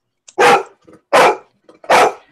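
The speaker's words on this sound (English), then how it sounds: "Michelle, we can hear you and the dog." A dog barks three times at close range, loud and evenly spaced, with soft huffs between the barks. There is no talking.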